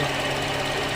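Electric radiator fan running in the engine bay of a 2007 Toyota Vios, a steady broadband whirring drone with a low hum, continuous and close for the whole second with no talk.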